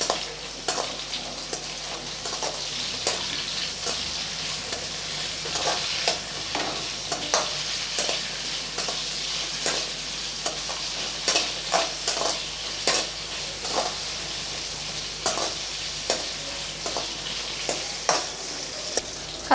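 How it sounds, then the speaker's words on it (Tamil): Brinjal pieces sizzle and fry in hot oil in a pan, with a steady sizzle broken by repeated scraping stirs of a spoon against the pan, close and without talk. "நம்ம எண்ணெயில் கொஞ்சம் வதக்கிக்கிட்டோம் அப்படின்னா குழம்புல கத்திரிக்காய் கொஞ்சம் கரையாமல் இருக்கும்."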